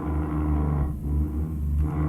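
A Scania R380 truck engine in Euro Truck Simulator 2 drones steadily and loudly, holding a deep, continuous rumble with slight dips and swells in revs throughout, no voices over it.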